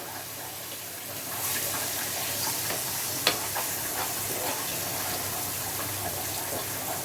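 Fish frying in masala in a pan after being turned, a steady moderate sizzle with faint scraping and one sharp clink, heard close with no speech.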